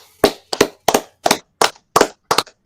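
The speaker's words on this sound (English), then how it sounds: "Clap it up, man." A single person claps hands in seven sharp, evenly spaced, isolated claps, each crisp and close, with no talking.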